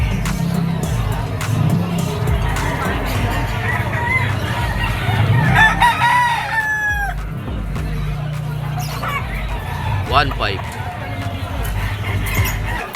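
Gamefowl stags and roosters at a Malabon market crow loudly several times, with clucks and squeals over a busy crowd murmur and nearby talk.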